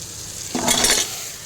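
Goat head meat added to a hot pan with eggplant curry and stirred, letting out a sudden burst of sizzling and scraping that lasts about half a second before fading back to a low hiss.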